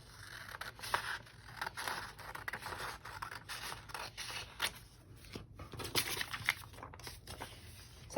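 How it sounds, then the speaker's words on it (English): Scissors cut through paper with a series of quiet scraping, snipping strokes at an uneven pace, close by and soft, with no talk. "You're just going to use some scissors to cut."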